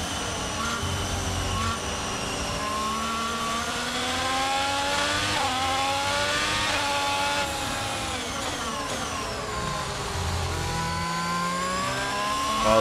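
Formula 1 race cars in the F1 2022 video game at Interlagos, Ferraris among them, roar continuously with high whining engines that rise and fall through gear changes, loud and unbroken throughout.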